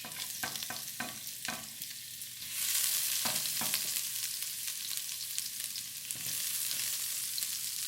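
Ginger and chopped garlic frying in a wok for a Chinese beef and pumpkin stir fry, a steady close sizzle with scraping stirs and clacks, swelling louder partway through, no voices.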